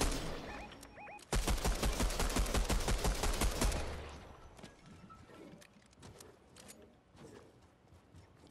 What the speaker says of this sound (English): I'm just shooting a tree, no need for concern.